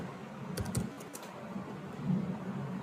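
A computer keyboard clicks in a few quick, light keystrokes, close and fairly faint against a quiet background hum.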